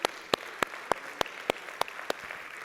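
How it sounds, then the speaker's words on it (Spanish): A church congregation claps in sharp, evenly spaced beats, about nine loud claps in a steady rhythm, close and without talk. "Dale un fuerte aplauso a Él."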